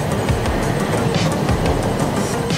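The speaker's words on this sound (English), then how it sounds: "Let's wait for the train and shoot it." A train passes close by. A loud, steady rumble carries a rapid rhythmic clatter of wheels running over the rail joints, with no talking.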